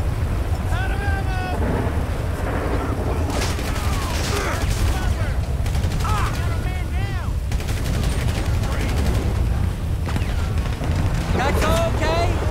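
Rapid bursts of gunfire and explosions from Grand Theft Auto 5 gameplay, dense and continuous with overlapping shots and shouting voices mixed throughout.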